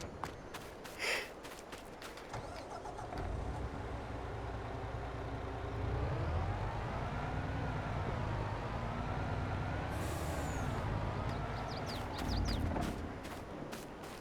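A truck engine in a farming game on the Silverrun Forest map starts and drives, its drone rising and falling with throttle changes, accompanied by occasional clanks and clicks, steady and moderately close, with no talking.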